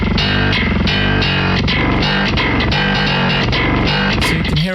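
A distorted metal bass plays through amp simulation with no EQ ahead of the distortion, a loud, dense, muddy grind of rapid riffing notes lasting several seconds.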